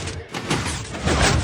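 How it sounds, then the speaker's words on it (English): A Minecraft 3x3 piston door works in the video game, giving a few quick, close, breathy mechanical pushes that swell and fade in overlapping bursts, with no talking. "there's our 3x3 piston door."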